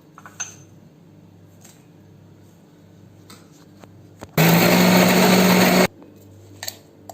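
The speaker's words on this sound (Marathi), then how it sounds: "लसूण आणि जिरं हे वाटून घेऊया" A mixer grinder whirs loudly for about a second and a half while grinding garlic, cumin, chilli and curry leaves for chutney, cutting off abruptly, with light kitchen clatter before and after.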